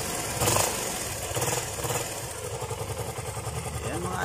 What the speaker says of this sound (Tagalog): Kaya ganyan pa rin katahimik yung makina ni idol.